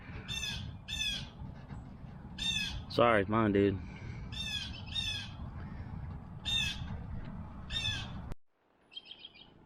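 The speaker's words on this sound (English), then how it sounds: "Sounds like a battle between blue jays and woodpeckers." Blue jays calling harshly outdoors at a tent campsite, repeated raspy bursts spaced through the stretch alongside other chirping birds, with someone talking briefly near the end.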